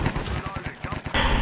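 Automatic gunfire in Counter-Strike on the Cache map, a quick burst of closely spaced loud cracks in a rapid rhythm, with a player's voice heard briefly alongside.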